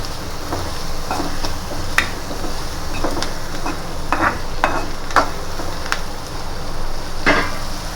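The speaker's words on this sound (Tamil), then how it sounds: "நல்லா வெங்காயம் வந்து பொன்னிறமாக வதட்டிக்கு நல்லா வதக்கிடுவோம்." Onions sautéing in a pan, a steady sizzle and fry crackle throughout, with scattered sharp clicks and scrapes from a stirring spoon against the pan, close and moderately loud.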